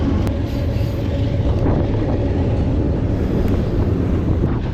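A train passes close by a riverbank where someone is bass fishing, a loud, steady low rumble with wind buffeting the microphone throughout, with no talking.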